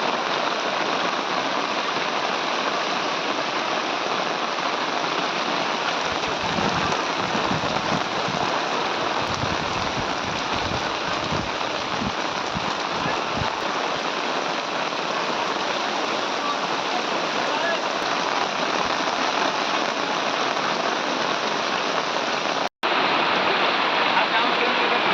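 A torrential downpour pounds Talangana village in Upleta taluka as floodwater enters streets and homes, making a dense, unbroken roar of rain on surfaces with some lower rumbling partway through.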